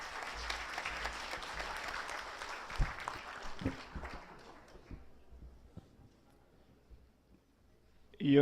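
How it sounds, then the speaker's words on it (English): Applause from the audience welcomes Mayor Michael Rama of Cebu City at a regional economic managers briefing. The dense clapping starts full, thins into scattered claps and fades, and a loud thump sounds at the end. "Please give a round of applause to Mayor Michael Rama"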